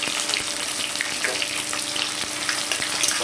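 Chopped onion and tomato fry in a pan with a steady, dense sizzle that holds evenly from start to finish, close and fairly loud.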